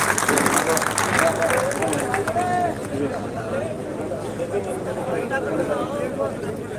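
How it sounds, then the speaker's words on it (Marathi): Crowd noise and clapping from an audience welcoming a speaker, Sharad Dada Koli, at a kirtan gathering in Chohatta Bazar, a dense steady wash of hubbub and applause with voices mixed in throughout. "सर्वांनी जोरात टाळ्यांचा स्वागत टाळ्याच्या गणगणात त्यांचं स्वागत करावं"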